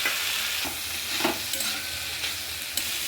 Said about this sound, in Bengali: ডিম আর চিংড়ি মাছটা আমি ছেড়ে দিলাম